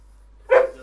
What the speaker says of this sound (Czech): Co štěkáš?